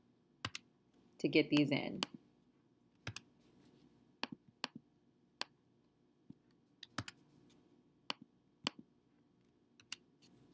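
Computer keyboard typing in a quiet room, scattered sharp key clicks in short irregular bursts, with a brief spoken phrase near the start.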